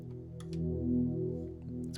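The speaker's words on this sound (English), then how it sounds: "I recorded a pad throughout the entire song." A synth pad recorded to run under an entire song: a soft, steady, sustained chord that swells slightly in the middle, with faint clicks scattered over it.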